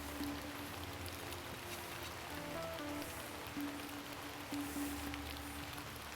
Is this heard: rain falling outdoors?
yes